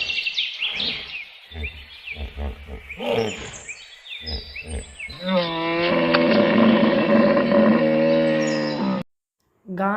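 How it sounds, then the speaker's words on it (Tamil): A hippopotamus gives a string of short, deep grunting pulses that swell into a long, loud, bellowing roar with a rich buzzing tone, close and alone, ending abruptly. "hippopotamus"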